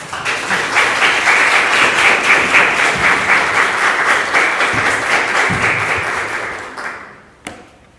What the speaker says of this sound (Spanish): un aplauso para Ana